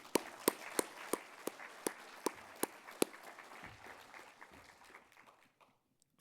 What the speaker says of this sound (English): Let's also give a round of applause and thanks to the U of C for hosting this event